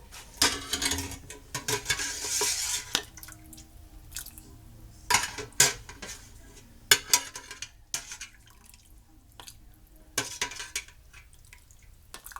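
A slotted spoon scoops through a pot of chicken noodle soup, making wet sloshing and dripping with metallic clinks against the pot in irregular bursts, close and without talk.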